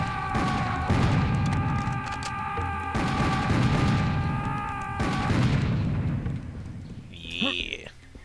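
Weapon fire in Serious Sam Second Encounter, dense bursts of repeated shots rolling through most of the stretch over a tonal in-game hum, with a sharper effect near the end.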